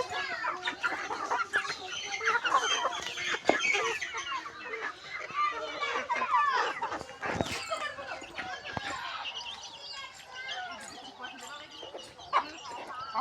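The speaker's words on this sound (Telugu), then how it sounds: "మా అమ్మగారు కోళ్ళు కూడా పెంచుతారు. నాటుకోళ్ళు అండి ఇవన్నీ." Several free-range country chickens cluck and squawk nearby in an irregular, busy chorus, with some voices talking over them.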